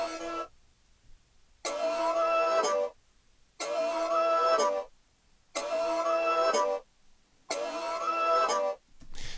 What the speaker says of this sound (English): I've taken that same sound from earlier and just given it more of a rhythmic chop to it.